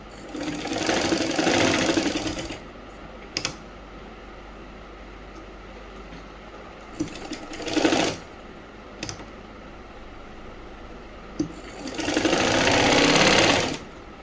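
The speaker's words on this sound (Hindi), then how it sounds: "अब दोनों को एक दूसरे की विपरीत दिशा में मोड़ के सिलाई लगा दीजिए।" A sewing machine stitches salwar fabric in three rapid bursts of rattling stitching, each a second or two long, separated by quiet pauses with faint clicks.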